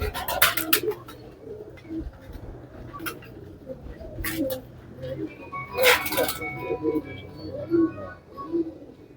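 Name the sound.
pigeons cooing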